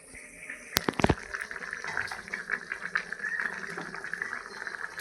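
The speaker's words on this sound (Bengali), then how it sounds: "ভেজে রাখা পনিরগুলো দিয়ে দিচ্ছি" Fried paneer pieces dropped into a pan, giving a quick cluster of sharp clatters followed by a sustained sizzling and bubbling of hot contents close by.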